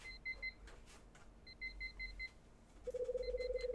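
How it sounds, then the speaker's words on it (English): An alarm clock in the video game Last Window beeps in quick repeating bursts of electronic tones, stopping and restarting, then switches to a faster lower-pitched beeping over a faint background hum. "Guess the only way to stop that damn beeping is to get up and hit it myself."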